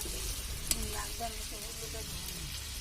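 Soybean chunks sizzle steadily in a spiced pan as water is poured in, a soft hiss with stirring clinks and a sharp tap, a voice faintly over it.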